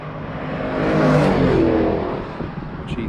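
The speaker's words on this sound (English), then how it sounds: "And here comes the C8. He should be followed closely by the Supra" A C8 race car sweeps past on the Summit Point track, its engine swelling to a loud peak as it nears and fading away after passing, alone without talk.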